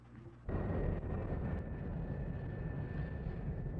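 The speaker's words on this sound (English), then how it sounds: "as the Blue Angels roared over the old air base in formation so tight they sometimes allowed but 36 inches between the wingtips of each plane" Blue Angels jets roar over a former air base in tight formation, a sudden loud, steady rushing engine roar that fills the clip after a brief quiet opening.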